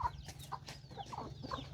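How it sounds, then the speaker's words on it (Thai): Chickens clucking nearby outdoors, short rhythmic clucks and chirps repeating about every half second, close and fairly clear with no talk over them. "เอ้ยเบิ่งไก่อันนี้ก็ได้"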